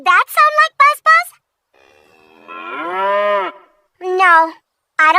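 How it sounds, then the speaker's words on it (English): A cow moos in a long, drawn-out low call, preceded and followed by a voice talking in short bursts. "Yep, it's a cow."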